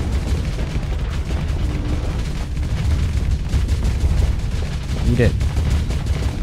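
Missiles launching and bursting in the space combat game Starsector, a dense stream of rumbling booms and crackling impacts under a man's speech, with a sharp whooshing streak near the end.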